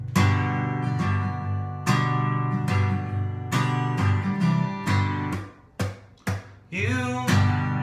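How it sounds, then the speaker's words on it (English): Acoustic guitar strummed in a steady rhythmic pattern, chords ringing out clearly and close, with brief pauses near the end before the strumming resumes. "it's a really simple strumming pattern"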